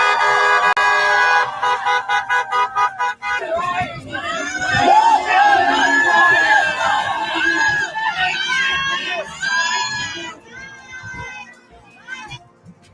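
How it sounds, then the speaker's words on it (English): Crowd outside the Brownsville State of the City event, with honking car horns in a steady pulsing rhythm at first, then a mass of shouting and cheering voices, loud and continuous, with toots breaking through near the end. "So they did have their little crowd out there"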